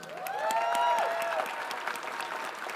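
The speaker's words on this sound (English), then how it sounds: "let's have a round of applause for our exemplary production team" An audience at a small business gala in an arena applauds steadily, with dense clapping throughout and a brief gliding tonal sound partway through.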